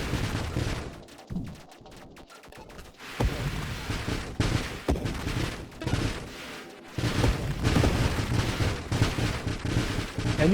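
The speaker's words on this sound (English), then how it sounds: "Like you saw the mines go off there and just instantly blow that guy up." Mines detonating in the space shooter Nova Drift, rapid overlapping explosive blasts and gunfire-like bursts in dense volleys, with brief lulls between heavy barrages.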